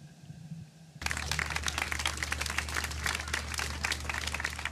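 After a second of quiet background, a large crowd at a concert at Old Trafford bursts into loud, sustained applause and cheering that continues to the end.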